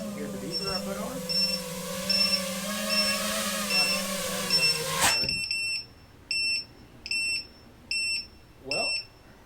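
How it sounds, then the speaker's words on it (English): A beeper fitted to a custom Quadmula F5 FPV freestyle quadcopter, first a held tone over a motor-like drone, then sharp repeated electronic beeps in an even, regular rhythm, close and loud. "you guys can hear the beeper I put on?"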